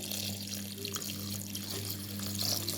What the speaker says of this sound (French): Je vais juste rajouter de l'eau tiède.